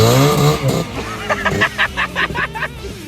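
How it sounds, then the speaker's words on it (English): A Trabant race car drives the track at a big tuner-car event at Lime Rock Park, trailing smoke, its engine droning with a run of pulsing bursts while someone talks close by over crowd murmur. "Trabant race car, dude"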